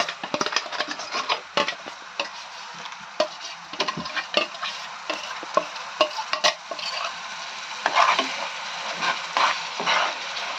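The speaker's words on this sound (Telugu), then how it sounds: "ఇలా వేగిస్తూ ఉండాలి" Onion paste and curry leaves fry in oil in a pan, giving a steady moderate sizzle broken by frequent sharp scraping taps of a spoon stirring against the metal.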